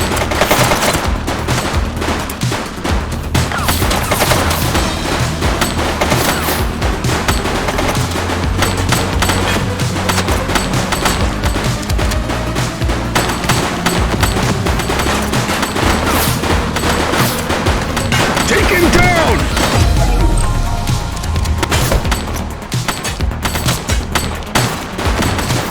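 Sustained gunfire rattles through a shootout in The Precinct, dense bursts of automatic and single shots crackling loudly and almost continuously, layered over one another with occasional heavier booms.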